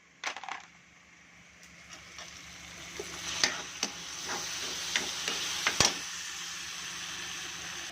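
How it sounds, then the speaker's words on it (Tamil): Chopped tomatoes go into a pan with ginger garlic paste, hitting with a loud opening burst, then a steady frying hiss with scattered stirring clatters and scrapes. "இஞ்சி பூண்டு பேஸ்ட்டு சாப் பண்ணி வச்ச தக்காளியை போட்டுக்கலாம்"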